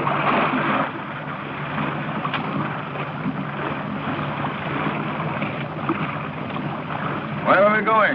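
Small motorboat carrying passengers out across open water toward a salvage vessel, its steady engine drone and water wash filling the scene with wind noise, while people talk over it throughout.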